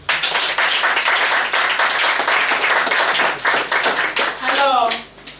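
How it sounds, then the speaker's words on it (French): A crowd claps steadily and loudly for several seconds at an accessories event in Cotonou, Benin, then the applause fades out as a voice starts speaking. "Un applaudissement s'il vous plaît."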